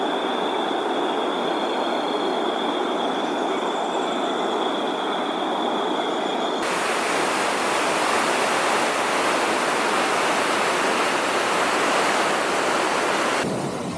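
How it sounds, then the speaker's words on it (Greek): A waterfall hidden in the mountains of the Bolivian jungle gives off a constant, dense rushing roar that holds steady and fairly loud the whole time, with no voices over it. "Κοιτάξτε εκεί καταράκτη, κρυμμένο μέσα στα βουνά."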